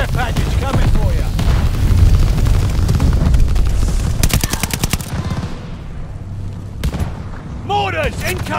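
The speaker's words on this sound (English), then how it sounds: "Mortars incoming! Get out!" Mortar explosions in a video game boom loudly one after another amid gunfire and clatter, with a crowded, sustained mix that thins out toward the end and breaks into a few sharp bursts.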